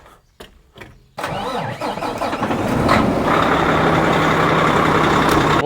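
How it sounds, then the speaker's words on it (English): A pickup truck engine cranks after a few clicks and knocks, catches and roars to life, then settles into a loud, steady warm-up idle close by. "We'll let that truck warm up for a little bit."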